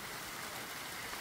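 Light rain falling on a very hot day, a steady, even hiss of fine drops spread across the whole clip, fairly faint and continuous with no voices over it.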